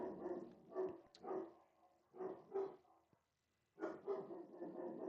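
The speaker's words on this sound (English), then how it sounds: "you're going to hear the dogs bark again" Dogs barking in repeated bursts of several sharp barks, moderately close, with a short pause before another flurry.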